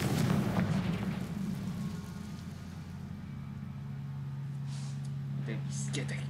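A Confringo explosion spell in the Hogwarts Legacy video game sets off a deep, booming blast at the start that rumbles and slowly fades. A voice is heard alongside it.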